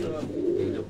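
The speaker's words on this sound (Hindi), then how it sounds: "मंजूर भाई अभी और कबूतर दिखा दे" A Sialkot Batere-breed pigeon, held up close by its owner, gives a low, throaty coo that swells and fades in one short, near call.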